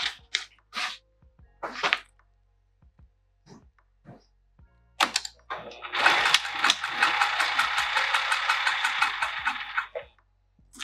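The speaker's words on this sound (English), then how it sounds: "we're going to stitch our 2 lines right across" A sewing machine stitches lines across a fabric bag, a rapid rhythmic whirring burst of several seconds, preceded by sparse clicks and thumps of handling the work.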